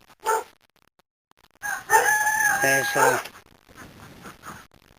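A rooster on a cottage farm with geese, chickens, dogs and a pony crows loudly and nearby, with other farm birds calling around it and a voice speaking briefly.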